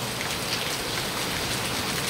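Steady rain falling and pattering on surfaces outdoors, a continuous even hiss with no voices.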